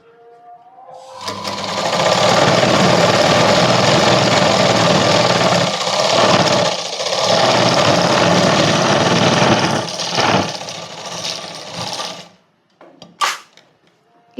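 A sewing machine runs a long, loud, steady seam on a kids' night dress, with a few short slowdowns before stopping, followed by faint handling clicks near the end.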